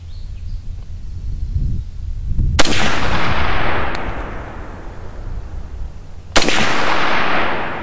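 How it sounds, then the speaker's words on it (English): A Chinese SKS rifle fires Soviet ammunition outdoors. Two sharp, loud shots come several seconds apart, and each echo rolls away over a few seconds. "last but not least is going to be the Soviet ammo through the Chinese SKS"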